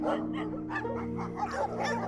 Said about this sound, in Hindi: कभी कभार कुछ कुत्ते भौंकते जाते थे